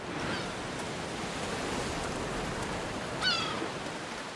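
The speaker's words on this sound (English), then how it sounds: "The waves crashing on rock tell of the impending storm Sophia recently warned us about" Waves crash against rocks on a stormy shore in A Plague Tale: Requiem, a steady broadband wash of surf with a brief louder break near the end.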